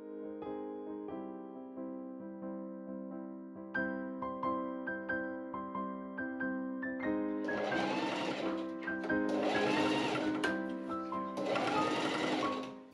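A sewing machine top stitches a corset hoodie, first a steady light mechanical whir, then louder, faster bursts of rapid stitching with a pause between runs, close and clear.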